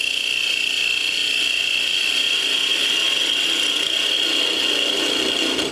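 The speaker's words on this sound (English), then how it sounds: "And I'll take my parting tool. And as I start cutting in" A parting tool cutting into spinning wood on a lathe gives a steady, bright scraping hiss with a sustained high whine, continuous and close for several seconds.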